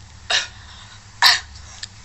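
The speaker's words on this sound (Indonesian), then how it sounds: "Nggak usah batuk." Two short, breathy coughs about a second apart, with a faint third catch after them. They sound close and there is no speech.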